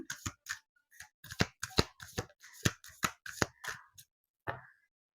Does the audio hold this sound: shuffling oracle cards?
yes